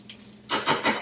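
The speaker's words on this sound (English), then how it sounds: "I'm going to whisk it up too" Grits whisked in a pot: after a quiet moment, three quick scraping strokes of a whisk against the pot, close and fairly loud, in a short rhythmic burst.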